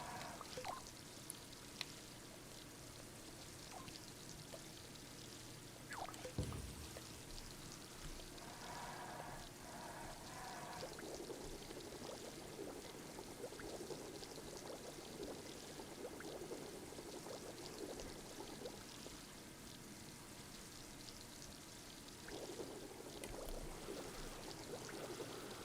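A stream of water pouring into a cup as a LittleBigPlanet 3 game sound effect, a faint, steady trickling pour that runs throughout with small shifts in texture, and no voices.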